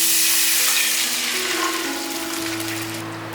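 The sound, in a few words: water poured into wok sizzling with fermented black beans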